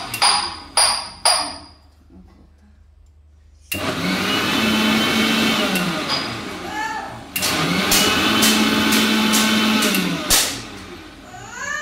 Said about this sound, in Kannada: ನೋಡಿ ಈ ಥರ ಮಿಕ್ಸಿ ಮಾಡಬೇಕು.